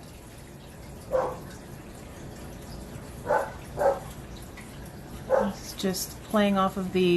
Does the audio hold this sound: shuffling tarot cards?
no